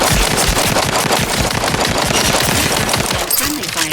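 Rapid automatic gunfire from the video game Outer Worlds 2 rattles continuously and loudly through the whole stretch, dense bursts packed together with a faint voice mixed under the shooting.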